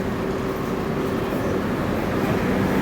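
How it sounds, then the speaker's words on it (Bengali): The Bikaner Duronto Express rumbles steadily out of Dhanbad station, heard from inside, a continuous heavy roll with a low droning hum that cuts off abruptly at the end. "ধানবাদ রেলওয়ে স্টেশন ছাড়লো"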